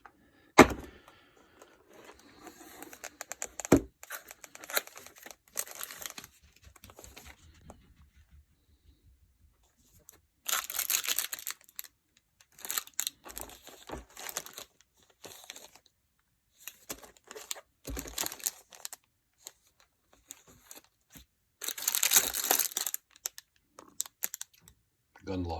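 New packaging for an M45A1 pistol is opened with crinkling plastic, rustling paper and tearing in separate bursts, some loud and close, between quiet gaps and intermittent talking.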